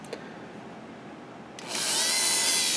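Dremel rotary tool on slow speed starts up after a quiet moment, then whirs steadily and close until the end with no talking.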